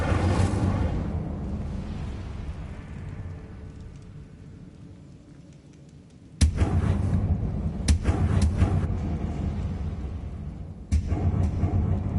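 An Incendio fire spell in Hogwarts Legacy goes off as sharp, broadband bursts that start abruptly and hold steady, with a couple of further onsets over a low rumbling background.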